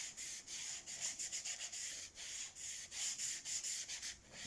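A wet, clean sponge is rubbed in quick back-and-forth strokes across watercolour paper, making a steady soft scrubbing hiss with brief pauses between strokes, close and alone.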